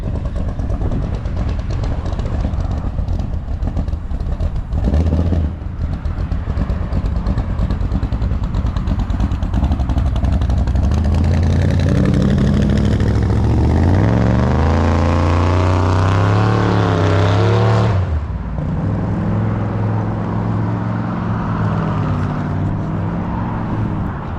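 A custom 1959 Chevy Apache pickup's engine roars very loud and close, revving up in rising sweeps to a peak before dropping back to a heavy rumbling idle.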